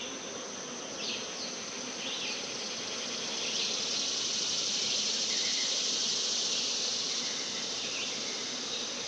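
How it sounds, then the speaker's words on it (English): Honey bees buzzing steadily and close as they are gently brushed off honey frames during a spring harvest, a dense continuous hum with individual insects swelling louder as they pass near. "So on the frames we're going to take, we're going to gently brush the bees off it."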